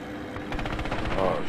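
Rapid machine gun fire in a war video game, a dense close rattle of shots running through the whole short burst with some background battle noise.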